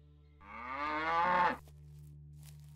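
A cow in the video game Above Snakes lets out a single drawn-out moo, close and clear, over a low steady background hum.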